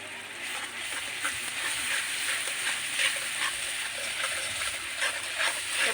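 Onion and masala frying in a pan, a steady bright sizzle and hiss with faint stirring scrapes, continuous and close, with no talking.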